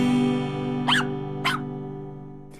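A 5-month-old Border Collie puppy whines steadily at close range, with two short, sharp yips breaking through the whine.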